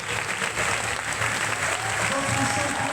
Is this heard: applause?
yes